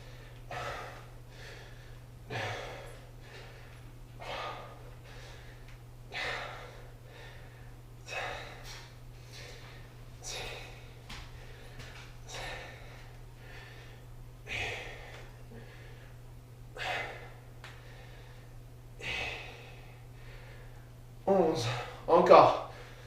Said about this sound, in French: On souffle bien en montant.